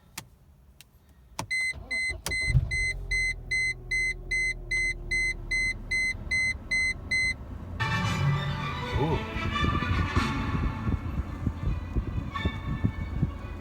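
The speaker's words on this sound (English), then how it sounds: "Let's start it up." A 1998 Mercedes-Benz C230 starts on a semi-cold start: a rhythmic warning chime rings for several seconds, then the engine catches and settles into a steady idle with some fan or blower noise.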